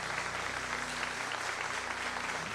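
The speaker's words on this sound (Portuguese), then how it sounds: "Então aplauda ao Senhor e glorifique o seu nome por isso." A church congregation applauds during a sermon, a steady, even wash of clapping that sounds distant and fairly quiet, running without a break and with no voices on top.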